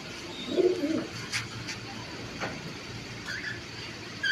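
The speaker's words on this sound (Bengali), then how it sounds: "প্রত্যেকটাই কিন্তু সব পাকিস্তানি কবুতর" Pakistani high-flying pigeons coo in a loft, with one close, low burbling coo early on and fainter calls and rustles after it.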